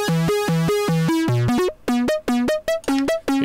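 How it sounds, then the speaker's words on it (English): A distorted, slightly detuned synth lead processed through FabFilter Volcano, playing rapid staccato notes at 150 BPM, each note sweeping bright under a filter envelope, with no talking. "You can hear this filter envelope going. It's a little bit detuned because of the distortion."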